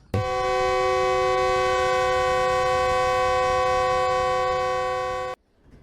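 Train arriving at a station, sounding one long, loud, steady horn blast for about five seconds before it cuts off abruptly.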